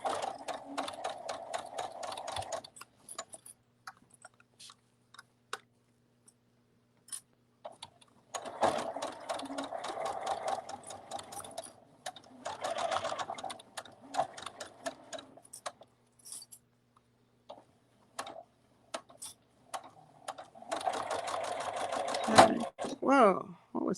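A sewing machine stitching a stuffed fabric bunny runs in fast, rattling bursts with pauses between, the needle's rapid chatter close by, while someone talks at times over and between the runs.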